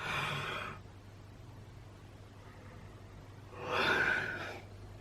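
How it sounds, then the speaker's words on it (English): A drawn-out breathy yawn opens the recording, followed by a quiet pause, then a second long airy yawn later on, both close and fairly soft. "Can't stop yawning."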